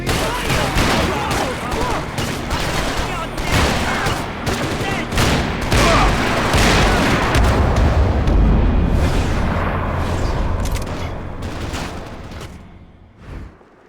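Heavy gunfire rattles through a Max Payne 3 firefight, dense overlapping shots and bursts in rapid volleys, loud and close, with voices shouting under the shooting.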